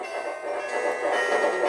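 A Thomas the Tank Engine toy train rolls past in a VTech V.Smile game, a steady clattering rumble with a faint bell tone, moderately loud and continuous for under two seconds.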